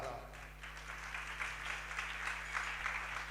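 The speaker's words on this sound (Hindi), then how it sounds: "ताली पहले बजा दी" A crowd claps steadily and continuously, a dense patter of applause at moderate distance with no pauses.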